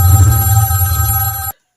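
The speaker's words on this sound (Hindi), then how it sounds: "कुछ दिनों बाद SIT को एक फोन कॉल्स आता है।" A telephone rings loudly for an incoming call, a close, steady electronic ring that cuts off abruptly after about a second and a half, leaving silence.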